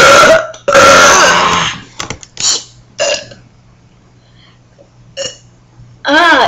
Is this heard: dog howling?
no